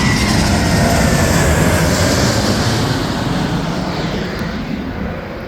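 Aircraft passing low overhead near a hotel, a loud broadband roar that fills the whole clip and slowly fades as it moves away.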